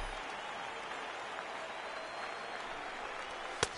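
Baseball stadium crowd in MLB 18 applauding and cheering as they rise to their feet, a steady distant wash of clapping with one sharp click near the end.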